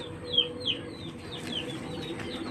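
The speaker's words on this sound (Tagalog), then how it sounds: "Maraming manok" Many chickens clucking in a yard in Tacloban, a few sharper calls early on, then continuous low clucking and rustling at moderate distance with no talk.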